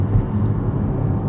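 Porsche 718 Cayman GTS 4.0 mid-engine car on the move, its engine and exhaust droning as a steady low rumble heard from inside the cabin, with faint rattles from the rear.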